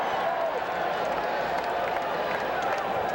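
A baseball stadium crowd at Game 3 of the 1986 World Series with the New York Mets roars and cheers in a steady, dense wash of noise, with a commentator talking over it.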